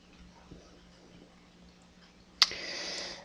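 A single sharp computer mouse click during an eBay listing setup, followed by a brief soft hiss, in an otherwise quiet room.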